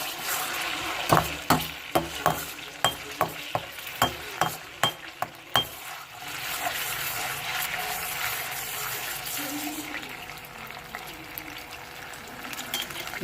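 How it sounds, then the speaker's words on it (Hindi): Garlic ginger paste sautés in oil for a chicken white karahi. About a dozen sharp spoon clinks on the pan come first, then a soft, steady sizzle and stirring carries on to the end. "अब इसमें सबसे पहले हम जो है ये लहसुन अदरक का पेस्ट शामिल करेंगे। इसको हल्का सा थोड़ा सा सौते करेंगे।"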